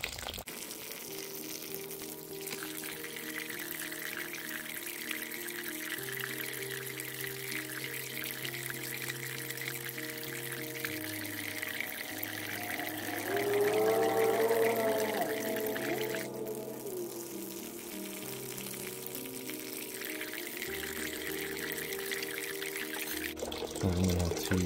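Water runs steadily into a small apartment pond, a soft continuous trickle and gurgle with a brief louder pouring swell midway, fairly faint throughout.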